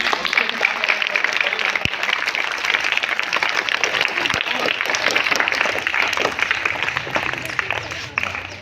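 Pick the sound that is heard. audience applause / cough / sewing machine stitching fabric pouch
audience applause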